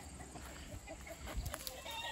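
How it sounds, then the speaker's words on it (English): Backyard chickens clucking softly while being hand-fed grapes in a permaculture garden in August, a continuous low murmur of fowl calls close by with a few sharper peaks, no talking. "I'll just give the chickens these grapes and then end the video."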